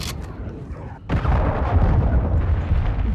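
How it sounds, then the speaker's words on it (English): A cruise missile strike in Call of Duty: Modern Warfare II detonates with a sudden heavy blast, then a loud, sustained rolling roar and rumble that carries on for a couple of seconds, close and dominant with no talk. "Cruise missile."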